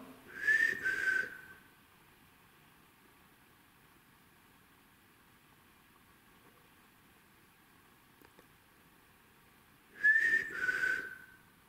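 Two short whistled phrases, each a rising then falling tone, separated by about eight seconds of quiet background hiss.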